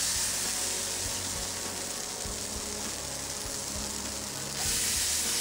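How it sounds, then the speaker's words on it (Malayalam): Appam batter meets a hot pan wiped with sesame oil, giving a constant faint hissing sizzle with a few soft taps, which brightens briefly near the end. "ഇതിലേക്ക് 1 സ്പൂൺ അപ്പത്തിൻ്റെ മാവ് ഒഴിച്ചു കൊടുക്കാം."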